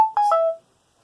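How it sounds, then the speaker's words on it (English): A mobile phone sounds a short notification chime: a brief tone followed by two quick rising tones, clean and close, then silence. "No, that's just my phone."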